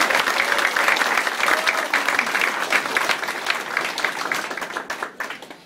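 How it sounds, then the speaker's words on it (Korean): Sustained, dense applause from a crowd at the opening of an election campaign office, steady and loud throughout before fading slightly at the end. "다시 한번 뜨거운 박수 좀 부탁드리겠습니다."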